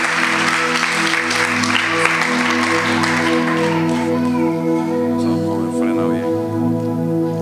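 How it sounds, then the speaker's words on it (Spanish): A church congregation applauds loudly during an evening worship service, sustained clapping and crowd noise layered over ongoing sustained musical tones from instruments, continuing at full strength before thinning slightly toward the end. "Usted déle un aplauso al Señor."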